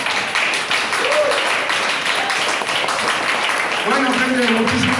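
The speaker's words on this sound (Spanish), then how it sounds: "Fuerte aplauso para Víctor, por favor" An audience applauding for Víctor at the close of a show, a dense sustained patter of clapping heard throughout, with a voice speaking over it near the end.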